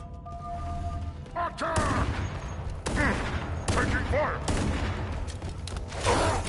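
Gunfire and combat in Halo: Campaign Evolved on PS5, loud close shots in sharp separate bursts mixed with mechanical clatter and alien weapon whines, spaced irregularly over several seconds.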